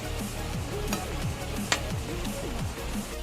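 A spoon scrapes and stirs through simmering ghugni as boiled matar dal is mixed in, giving repeated close scraping strokes over a soft bubbling sizzle, with a sharp tap partway through.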